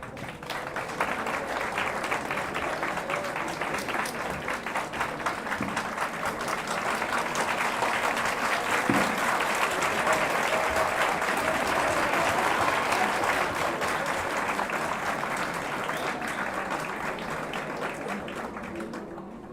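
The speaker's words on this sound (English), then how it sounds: "Thanks for the claps." Sustained audience applause at a medical college graduation ceremony, a dense, steady roar of many hands clapping that holds for the whole stretch, with a slight swell in the middle.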